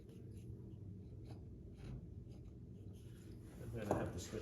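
A pencil scratches out a pattern on paper while drafting a shoe pattern's lasting allowance. Soft, steady scraping strokes sit under a low voice, with a slightly louder stroke near the end.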